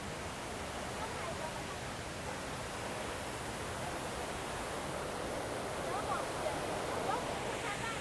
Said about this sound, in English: Now there are now two massive fountains.